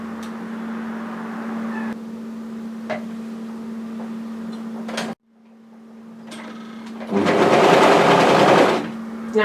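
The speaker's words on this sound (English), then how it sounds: "now we're going to overlock that into place, right through from one side to the other." An overlocker serges a yoke seam on a knit sweater, its motor humming steadily and dropping out briefly midway before surging into a louder, busier whir near the end.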